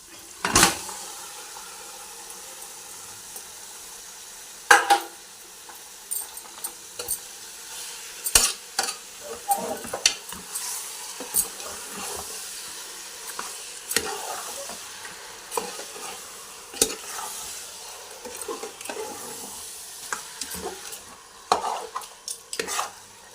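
Country chicken meat frying in oil in a spicy Telangana curry, a soft steady sizzle under frequent scraping and clinking as a spoon stirs the pan, with sharper metallic knocks scattered throughout.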